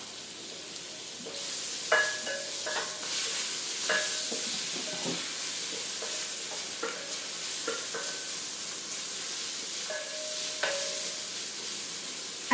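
Garlic and ginger fry in a pan for tomato shorba, a steady bright sizzle running throughout, broken by intermittent scraping and clinking of a utensil stirring against the pan.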